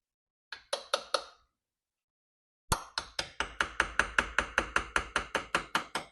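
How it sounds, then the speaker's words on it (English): A hammer taps a bolt on a C3 Corvette door: four quick strikes, a pause, then a rapid, steady run of sharp metallic blows, close and clear. "let's give it a try with the hammer."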